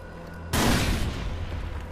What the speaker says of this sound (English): I'm just throwing a grenade there